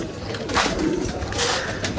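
Pigeons coo nearby in a rabbit and pigeon farm setup, a few soft throaty coos rising and falling over a short stretch with light background noise.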